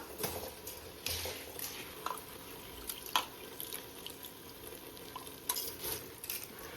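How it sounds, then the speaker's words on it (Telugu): Soaked rice is being stirred with masala in a pot for egg pulao, giving soft scraping and wet shuffling strokes with faint sizzling underneath, close up and without speech. "మసాలా అంతా రైస్కి పట్టుకునేటట్టు ఒకసారి మంచిగా ఇట్లా కలుపుకోవాలి."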